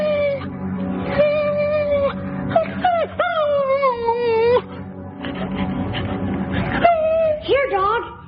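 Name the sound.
dog whining and howling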